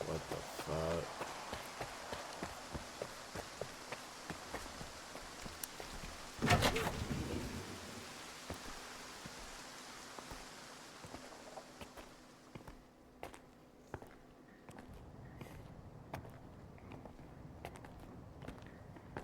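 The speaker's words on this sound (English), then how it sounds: "Is it raining inside?" Rain pours inside a building in S.T.A.L.K.E.R. 2, a steady patter over surfaces with footsteps and a brief loud burst partway through, while people talk over it before the patter thins out and quiets.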